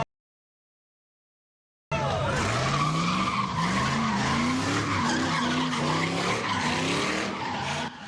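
Tires squeal and skid continuously at a nighttime street sideshow as cars spin out, the wailing pitch sweeping up and down loudly after a moment of silence at the start.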